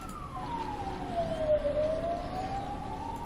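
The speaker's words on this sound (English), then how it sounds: "Oh, how I wish those damn sirens would stop for once." A wailing alarm siren from the space combat game Space Pirates and Zombies 2 sweeps steadily down in pitch and then back up. It sounds loud and continuous over a low background hum, with no talking.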